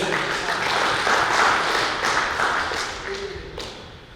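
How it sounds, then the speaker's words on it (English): A crowd claps steadily for several seconds, a dense wash of hand claps that swells and then slowly thins out. "another clap for everybody for your patience"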